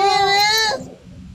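A voice imitates a cat's meow in one drawn-out, whiny call that cuts off abruptly, leaving quiet background noise.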